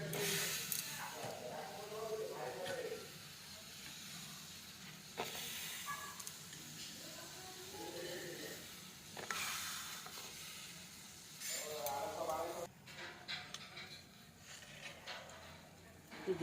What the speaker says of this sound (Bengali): পটলটা এখন সিদ্ধ বসাবো।